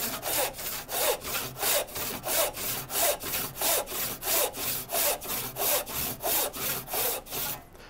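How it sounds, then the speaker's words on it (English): A hand saw cuts a wooden tenon in steady back-and-forth strokes, about sixteen rhythmic rasping passes, close and clear, with no talking. "I am just trying to hold the saw as straight in the cut and as plumb as possible while I move my arm back and forth"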